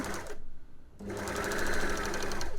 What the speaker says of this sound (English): we're going to head to the overlocker and start sewing it together